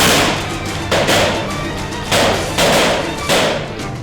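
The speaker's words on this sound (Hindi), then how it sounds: "उधर राइफल फायर होती है।" Rifle fire during a commando raid on a building, a series of heavy, booming reports at irregular intervals over a constant loud background rumble.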